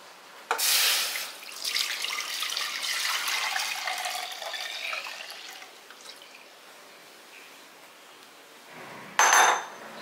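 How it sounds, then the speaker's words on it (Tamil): Cottonseed milk pours steadily into a metal pressure cooker for several seconds, then trails off into quiet before a sharp metallic clink near the end. "பருத்தி பால் ஊற்றிட்டோம்."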